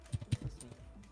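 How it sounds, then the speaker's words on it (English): Computer keyboard in an internet cafe, a few quick faint key taps in a short burst, soft and slightly distant, with no talk. "I'm hearing the keyboard of the Net Cafe"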